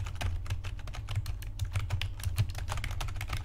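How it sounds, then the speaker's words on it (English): Rapid, uneven keystrokes on a non-mechanical Logitech keyboard set near a microphone, soft dull taps in a quick irregular stream with no one talking. "this is me typing on it."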